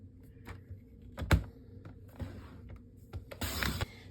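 A paper trimmer slicing card stock along the long side, a few short scraping cuts and clicks of the blade, close and fairly quiet.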